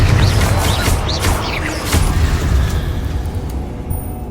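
A Confringo blasting spell goes off in Hogwarts Legacy, a booming burst at the start followed by rumbling debris and a fading tail over several seconds, no talking.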